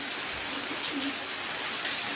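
Pigeons cooing in a loft, soft low coos repeating in the near background over a steady hiss, with faint higher chirps and no talk.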